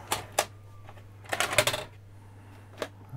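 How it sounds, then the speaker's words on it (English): A Panasonic DMR-EZ48V VCR/DVD combo ejects a videotape: a few sharp mechanical clicks and clunks, a cluster of whirring and clattering in the middle, then a final click, close and fairly loud over a steady hum. "Let's eject the tape back out."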